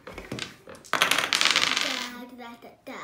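Dice rolled for a children's board game clatter onto a hard surface: a few light taps, then a bright rattling tumble that settles and fades, with a brief final knock, close and moderately loud.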